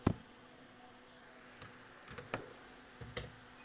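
Someone types code on a computer keyboard in a few sparse clusters of clicks. A single louder tap comes first, then small bursts of keystrokes, all fairly close with no talking.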